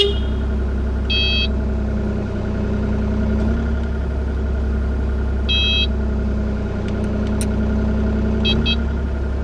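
A Kubota KX040 excavator runs steadily with a Rut MFG disc mulcher attached, giving a constant low engine drone, with short high-pitched beeps at about one, five and eight seconds.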